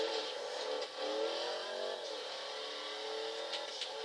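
Hotknife hot rod, a 1928 Ford Model A, driving in GTA 5, its engine note rising and falling through a couple of shifts at moderate volume, alone with no talk.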